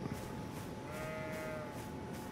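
A single sheep bleats once in the video game Elden Ring, a wavering call rising over soft background noise.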